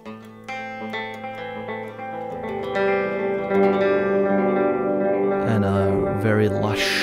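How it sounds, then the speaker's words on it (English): Sustained electric guitar notes, run through an Elektron Octatrack, swell and ring out, wrapped in a wide, lush reverb tail that keeps the tone washing on, fairly loud with no talking. "Very lush and big sounding reverb"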